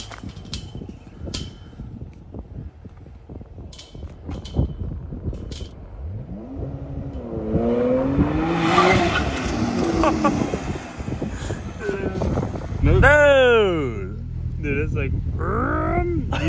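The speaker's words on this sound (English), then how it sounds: "You can hear when the tire came off the ground." A twin-turbo Porsche Turbo S jumps on a track until a tire leaves the ground. The engine note surges in rising, sweeping revs twice, loud and close, with road roar and a voice talking over it.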